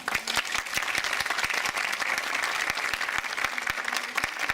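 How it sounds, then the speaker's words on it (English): Audience clapping to greet a guest at a talk on higher education and Erasmus+, steady, dense applause from a room of people, held evenly throughout. "greet our guest with one great applause"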